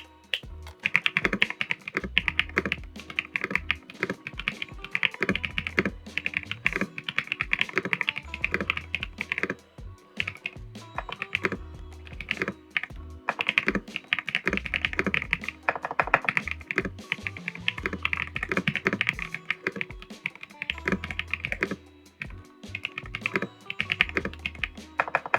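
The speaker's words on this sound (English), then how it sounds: "Here's the sound test of the keyboard as well." Rapid, continuous typing on a laptop keyboard fitted with Ajaz switches, producing close, crisp clacks and taps in a steady stream with no speech.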